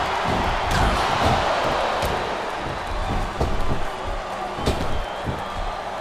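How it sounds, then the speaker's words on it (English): A loud arena crowd chants and roars in WWE SmackDown vs Raw 2007, a steady dense wash of voices with occasional sharp slams and thuds breaking through. "Wow, listen to that chant, Taz."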